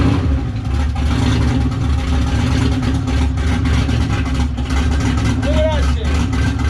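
A turbocharged GT40 build, out of use for a long time and untuned, runs with a loud steady engine roar and rumble all the way through. People talk faintly under the noise.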